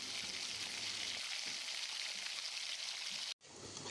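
Onions and chopped medium tomatoes sauté in hot oil for a bottle gourd and cowpea kuzhambu, giving a steady, close sizzle that cuts out briefly near the end.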